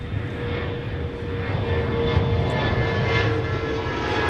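A Boeing E-4B US Air Force aircraft lands on the south parallel runway at Minneapolis-St. Paul airport, a loud sustained engine roar with a steady whine that swells slightly toward touchdown, no voices.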